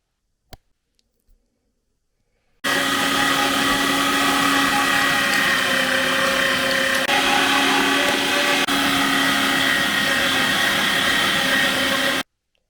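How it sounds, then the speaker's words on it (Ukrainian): A loud electric meat grinder starts after a few clicks and runs with a steady grinding whir for about ten seconds as it minces meat and onions, then cuts off abruptly. "шматок м'яса та дві цибулини пропустимо через м'ясорубку"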